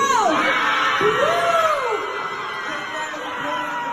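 Crowd of spectators at a beauty pageant yelling and cheering for a contestant, loud and close, with a rising whoop near the start and a sustained din that eases slightly.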